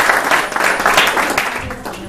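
Audience applause at a holiday networking event, a dense sustained burst of many hands clapping close by, steady and loud through the whole stretch with faint voices mixed in.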